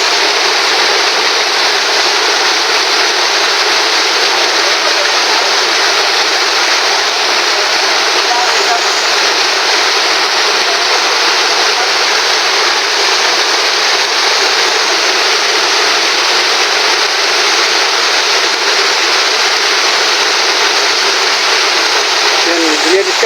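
Water gushes steadily from a pipe broken by a typhoon, a loud, continuous broadband rush close by with no break for over twenty seconds.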